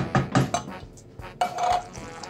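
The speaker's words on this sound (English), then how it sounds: "in go the chickpeas." Chickpeas tumble into a curry pot in a few quick clattering bursts, a short rattle of tins and utensils against the pot rim, close and fairly loud with no talk.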